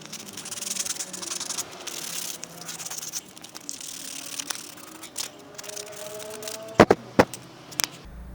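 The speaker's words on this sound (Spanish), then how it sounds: "Ahora falta un poco de lija en prolijar y va quedando el cuchillito." A knife cut from a plough disc is hand-sanded to smooth it, giving a faint, steady rubbing scrape throughout, with a few sharp clicks and knocks near the end.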